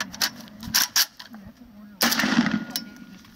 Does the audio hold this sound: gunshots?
yes